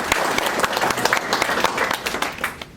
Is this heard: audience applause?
yes